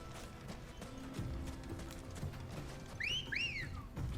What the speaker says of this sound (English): You're a fine looking chocobo, Ambrosia.